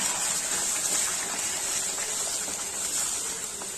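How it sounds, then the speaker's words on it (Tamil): Water gushes steadily from a tap, loud and continuous throughout, as a mixer jar is rinsed and the water is poured into an onion-tomato masala for paneer gravy. "இப்போ கொஞ்சமா இந்த மிக்சி ஜார் கழுவி தண்ணி ஆட் பண்ணிடுங்க."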